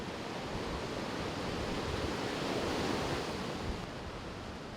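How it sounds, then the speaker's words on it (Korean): Strong ocean waves surge and roar steadily at a Sri Lankan stilt fishing spot, a loud, continuous wash of surf that eases slightly near the end, with no voices. "생각보다 파도가 정말 심했습니다"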